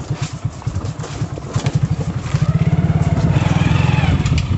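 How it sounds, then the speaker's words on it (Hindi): Close by, a motorbike is ridden along a jungle track in Northeast India, its engine putting in a rapid chugging pulse that quickens and swells as the rider revs and pulls ahead. "हमारे एक दोस्त बाइक को ड्राइव कर रहा है"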